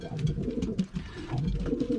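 An older male racing pigeon, bred in 2008 and from a Belgian loft, coos in low, repeated throaty phrases close to the microphone, with no talking.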